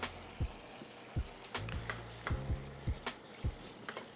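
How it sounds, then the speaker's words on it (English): A mushroom cream sauce made with heavy cream simmers and bubbles gently in a pan, with a soft sizzle under repeated scraping and stirring knocks from a utensil. "Mix that in and just let that simmer for a minute or two to reduce."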